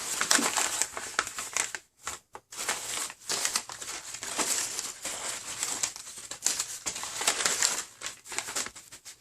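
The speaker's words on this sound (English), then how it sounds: "Here, let me get rid of this paper." Packing paper is crumpled and pulled out of a parcel that held a custom knife sheath, with loud, close crinkling and rustling in uneven bursts and a few short pauses throughout.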